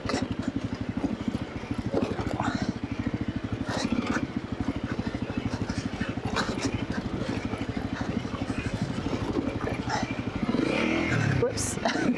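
A motorcycle rides over sand and rock in Moab, its engine droning steadily and close for the whole stretch, with a louder, rougher surge toward the end.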